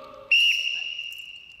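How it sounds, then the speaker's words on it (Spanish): A single high, clear whistle by a person, starting sharply after a brief low tone and holding steady before tapering off. "Silbido, si yo silbo"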